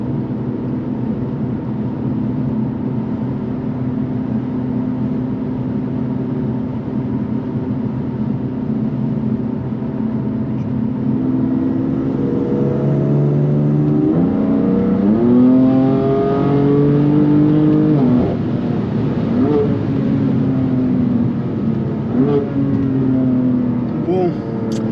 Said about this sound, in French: vous voyez quand même à l'accélération c'est très réactif